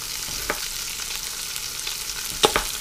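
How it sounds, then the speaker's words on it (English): Chopped onions sautéing in an Instant Pot with pork chops, a soft continuous sizzle with a couple of brief stirring clatters, fairly quiet and close, no talking. "I'll saute the onions in what's in there, and then I'll deglaze the onions and this simultaneously"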